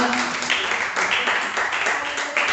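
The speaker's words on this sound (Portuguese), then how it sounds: "Vamos aplaudir ao Senhor." Congregation in a church worship service clapping together in praise, a continuous loud wash of applause filling the hall, with a voice faintly present underneath.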